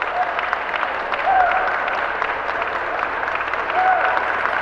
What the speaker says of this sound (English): great round of applause by the Cocker Spaniel Fancy here at ringside